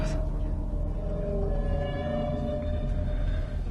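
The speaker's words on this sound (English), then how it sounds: "That's just a whale." Underwater whale vocalization in a deep-sea setting: long, low, moaning tones with drawn-out wavering calls over a constant dense rumble, steady throughout with no speech.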